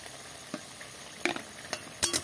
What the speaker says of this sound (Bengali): এই যে দেখুন মশলাটা প্রায় কষায় নিতে হবে ভালো করে।